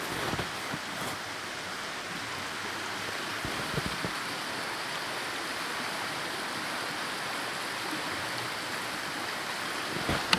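Water in a forest stream flows nearby at camp, a steady broadband rush with no speech, holding an even level throughout with a couple of small knocks.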